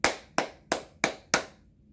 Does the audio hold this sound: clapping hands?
yes